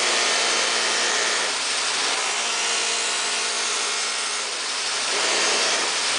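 A buffing wheel aggressively cuts and polishes stainless steel trim, making a loud, continuous whirring grind that swells and eases slightly as pressure changes.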